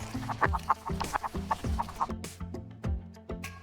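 An AI-generated sound effect for a duck crossing the road: a rapid run of loud, nearby clucking calls with a steady rhythmic patter beneath, heard without speech.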